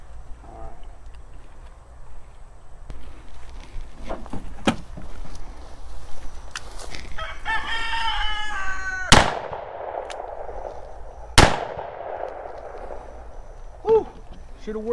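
A .357 handgun round is fired into 3/4 inch plywood, two sharp, loud cracks a couple of seconds apart, each with a short ringing tail, over steady background noise with some indistinct talk.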